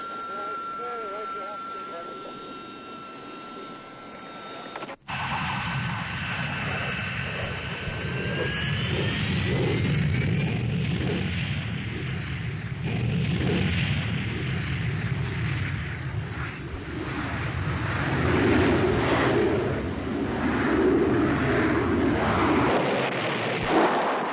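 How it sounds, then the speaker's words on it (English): An RAF Harrier GR-3 jet on a firing range, its engine roaring steadily with a whine that shifts in pitch, loud and sustained after a sharp cut near five seconds, with a narrating voice running over the noise. "All RAF Harrier pilots have to be proficient with the SNEB 68mm rocket"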